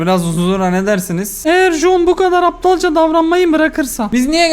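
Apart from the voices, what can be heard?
No everyday noises stand out.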